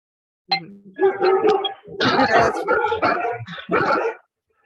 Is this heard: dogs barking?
yes